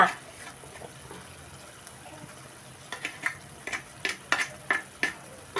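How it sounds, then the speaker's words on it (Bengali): A spoon stirs ground fennel into tomato pickle in a pan with the heat switched off. Quiet background at first, then a run of soft, rhythmic scraping and tapping strokes grows louder in the second half. "এইটা দিয়ে একটু নাড়িয়ে চাড়িয়ে একটু ভালো করে মেখে"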